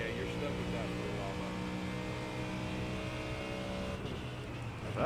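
Race car engine in the iRacing sim during an IMSA WeatherTech Sebring 12 Hours race, a steady loud droning whine at high revs that shifts pitch near the end, with people talking over it.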